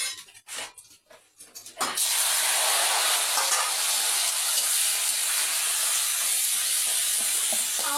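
Dried chili hitting hot oil while greens fry, an abrupt loud hiss after about two seconds of quieter clatter, then a dense, steady sizzle that holds at full strength to the end.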